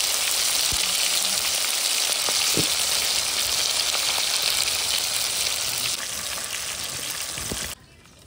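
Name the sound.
pomfret fish frying in oil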